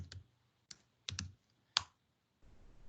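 A few scattered keyboard key clicks, close and distinct, separated by short pauses, with a quiet room hum after the last one.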